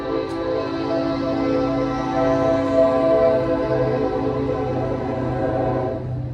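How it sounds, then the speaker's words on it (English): A train rumbles past close by, a steady loud roar with a sustained horn-like tone running through it, with no one speaking. "There's a train that's about to come. It's gonna be real loud"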